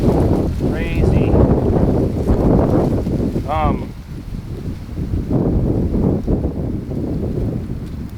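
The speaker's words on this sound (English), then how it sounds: "That's really going. Look at that. Crazy wind." Strong wind roars through the woods as a loud, continuous rush buffeting the microphone, with a few bird chirps and someone speaking briefly over it.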